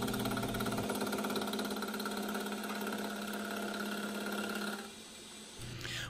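A metal lathe turns down a wooden dowel to a fixed 2.5-inch diameter for wooden threads, giving a steady motor hum with tonal whine and cutting rasp that drops away near the end as the machine winds down.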